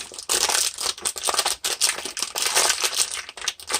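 A plastic packet of soup mix crinkles and crackles as it is opened, a close burst of rapid, uneven rustling with brief pauses between bursts.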